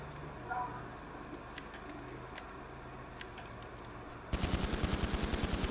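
Rapid burst of automatic gunfire from a zombie shooter video game, loud and dense, erupting suddenly after several seconds of quiet background with faint clicks.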